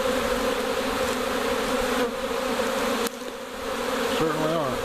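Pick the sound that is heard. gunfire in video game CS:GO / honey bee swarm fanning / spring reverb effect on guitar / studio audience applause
honey bee swarm fanning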